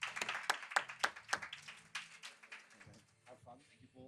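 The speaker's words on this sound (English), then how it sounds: "please put your hands together for Eric for DAB.bio" Scattered claps and a brief burst of applause from a conference audience welcoming a speaker to the stage, sharp hand claps early on giving way to lower murmuring and voices toward the end.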